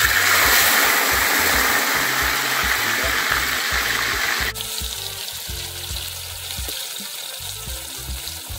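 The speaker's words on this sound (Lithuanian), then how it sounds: "dedam į vandenį iš karto" Carp pieces go into hot liquid in a cauldron over a fire, giving a loud rushing sizzle that suddenly drops to a quieter steady bubbling.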